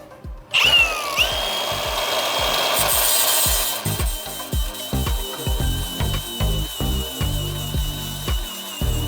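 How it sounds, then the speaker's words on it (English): An angle grinder works over welded-up holes on a BMW body shell, starting with a sharp high whine, then continuing as a loud, steady grind broken by regular rhythmic bursts and pauses as the disc moves across the metal. "And now we're gonna get to grinding."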